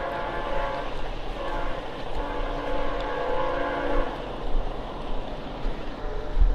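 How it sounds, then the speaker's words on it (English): A train rumbles by in the background, a steady low roar with faint horn-like tones, heard from a distance under ambient noise with no talking. "There's like a train going off in the background."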